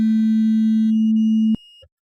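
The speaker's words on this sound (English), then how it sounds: "make a sine wave or other sort of waveforms" A steady, pure sine tone at about 220 Hz from a block-built virtual synth in Patchworld holds loud and unbroken, then cuts off abruptly with a click, leaving a faint short blip before silence.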